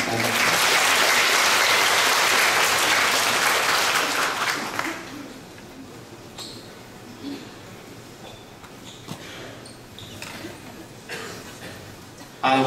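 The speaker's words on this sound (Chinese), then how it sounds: "大家掌声" Loud audience applause at a Buddhist lotus society ceremony donating an ambulance and automatic CPR machine, dense clapping for about five seconds before dying away to scattered claps and quiet room murmur.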